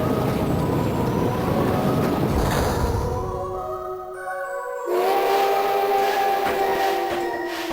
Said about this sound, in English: Looks like this thing drives just like any normal train